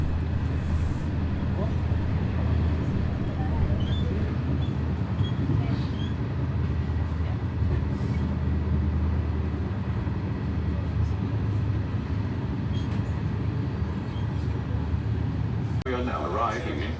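Steady rumble and clatter from inside a moving Trenitalia regional passenger train between Perugia and Rome, continuous rolling noise over the whole stretch, with a brief rattling jolt near the end.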